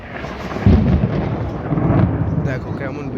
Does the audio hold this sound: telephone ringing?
no